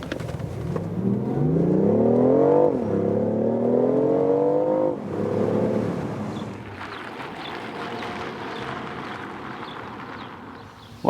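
A BMW i8 Roadster accelerating hard, its engine note climbing steeply through two rising pulls with a brief drop for a gear change, loud and close, then easing into a steady cruising roar.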